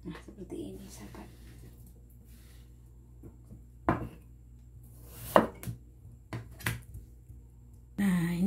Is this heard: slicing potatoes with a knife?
yes